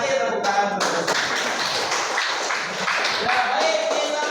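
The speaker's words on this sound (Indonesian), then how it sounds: "Terima kasih tepuk tangan terus." A school class claps their hands together in an Indonesian classroom, quick irregular claps and taps layered over each other, close and fairly loud, with some voices mixed in.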